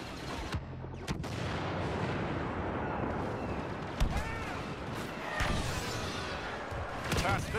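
Orbital strike explosions in a Star Wars blaster shooter form a dense, continuous rumble of blasts and booms, with sharper detonations standing out and a few whistling streaks through the din.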